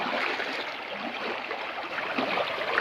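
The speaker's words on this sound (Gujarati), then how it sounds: "તો પાણીનો અવાજ તમે સાંભળતો છો," Fast-flowing river water rushes through the Gir forest across a flooded road, a steady dense roar of current heard alone and fairly close.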